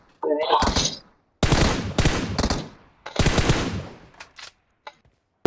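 Bursts of rapid gunfire in PUBG in quick volleys, separated by short silences, with a few isolated shots near the end.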